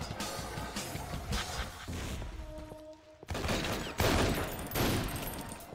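Rapid enemy gunfire from the Painkiller: Redemption shooter game: dense, continuous bursts of shots, loud and close, with a brief lull and a steady mechanical hum partway through before the firing resumes.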